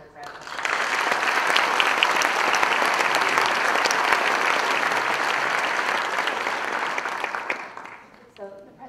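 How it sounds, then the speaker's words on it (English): A conference audience at a UX camp event in Ottawa breaks into sustained applause that swells quickly, holds steady for about seven seconds, then fades out. "So can we just give them a really quick round of applause?"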